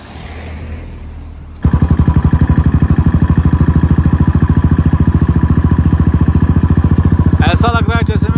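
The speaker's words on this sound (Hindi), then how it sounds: "तो करते हैं अपनी बाइक को स्टार्ट" A Royal Enfield motorcycle on a road fires up after a quiet lead-in, then settles into a loud, close, steady thumping idle with rapid even pulses, and a voice comes in near the end.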